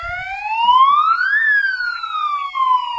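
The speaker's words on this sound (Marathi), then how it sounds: "म्हणजे हा आवाज पूर्ण गावात जातोय आता ह्या सायरनचा" A home security alarm siren wails loudly and close, its tone sweeping steadily up and then gliding back down in one long electronic cycle with no voices.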